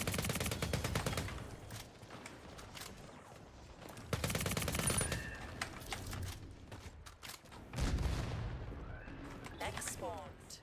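Rapid gunfire from a weapon in a video game, with fast repeated shots in three loud bursts around game noise and a voice.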